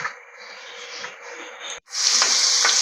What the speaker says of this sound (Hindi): इसमें हम तमाम बॉयल वेजिटेबल्स डालेंगे और उनको भी हल्का सा फ्राई कर लेंगे